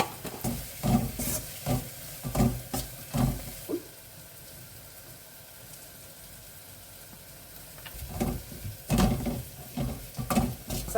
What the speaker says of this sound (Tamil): மசாலா கொஞ்சம் நல்லா வதங்கட்டும்.